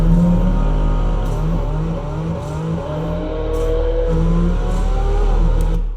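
A Porsche GT4 RS sports car engine runs steadily with a deep, even drone and pulsing revs, sustained and fairly close throughout, with no voices over it.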